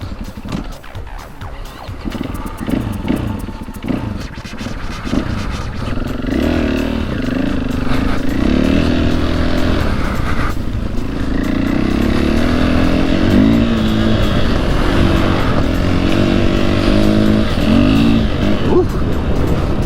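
A Husqvarna 501 FE dirt bike engine idles and revs outdoors, a loud, rough, continuous running note with rising and falling throttle blips and some talk underneath.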